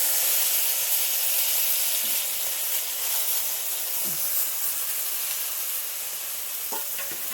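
Onion, ginger and garlic paste fries in oil in a wok with cumin tempering, making a loud, continuous close sizzle and hiss. Faint clinks of stirring come through now and then.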